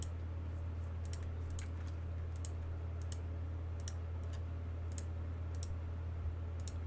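Mouse clicks on gear pieces in Raid Shadow Legends: about a dozen sharp, irregular clicks over a steady low hum, close and fairly quiet.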